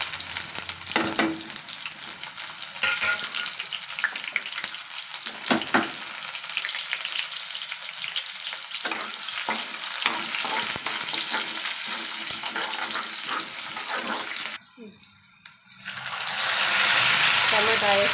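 Mustard seeds, onion and asafoetida frying in a pan for a dhaba-style mutter paneer masala, a loud steady sizzle with occasional stirring clatter, ending in a sudden burst of harsher spitting.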